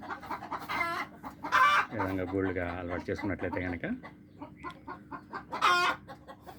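Hens cluck and a rooster gives a drawn-out call nearby, while a person talks over the poultry sounds.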